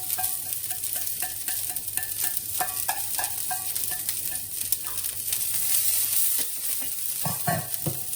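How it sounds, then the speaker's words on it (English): Chopped garlic sizzles in hot oil in a pan for prawn pasta, a continuous close crackling hiss with occasional light scraping of a utensil, no voices. "We're gonna drop our chopped garlic. We're gonna start to infuse that oil with the garlic essence."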